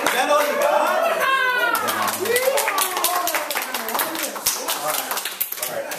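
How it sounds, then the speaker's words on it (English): Audience members at a live show by a band clap on cue, a dense burst of many hands clapping over a voice and other chatter, loud and close. "When I do this to you, I just clap."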